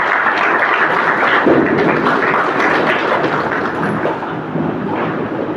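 Dense, continuous crackling and popping of Diwali fireworks and firecrackers going off outside, a steady roar of overlapping bursts that holds at a fairly loud level throughout, with no talk.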